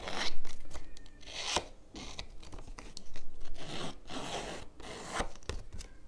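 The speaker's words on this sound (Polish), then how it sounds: "Moją pierwszą warstwę po prostu lekko postrzępię nożyczkami." Scissors fray the edges of a paper layer for a handmade kite card, giving close, irregular scratchy rasps and snips in short bursts with brief pauses between them.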